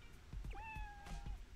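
A cat in the Dave the Diver video game gives a single clear, sustained meow that rises and then trails off, heard over a soft game soundscape with low thumps beneath.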